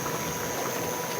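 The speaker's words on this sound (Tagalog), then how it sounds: "Tapos pakuluan po natin to." Tilapia simmering in coconut milk with eggplant in a pot for a sour-stewed fish dish, giving a steady, close bubbling hiss that continues evenly throughout with no talking.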